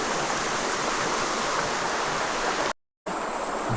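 A small waterfall and shallow stream near Gambita, Colombia, pouring as a steady, close, broadband rush with no talk, broken by a brief dropout near the end.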